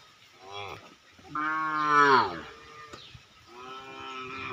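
Large cattle brought to a Qurbani livestock market low and moo in long, drawn-out calls, one loud and close near the middle, against a busy outdoor background.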